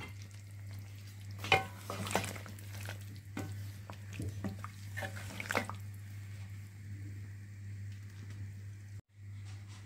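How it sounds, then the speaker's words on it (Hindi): Chicken and potato curry with fenugreek, garam masala and whole cumin being stirred in a pot, soft scraping and light sizzling in uneven strokes over a steady low hum. "अब हम इसमें ऐड करेंगे 1 टेबल स्पून मेथी, हाफ टेबल स्पून गरम मसाला पाउडर, 1 टेबल स्पून साबुत ज़ीरा। इसे हमने अच्छी तरह से मिक्स कर लेना है।"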